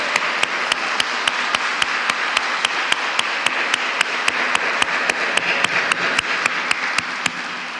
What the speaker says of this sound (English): So could we have a round of applause for those folks?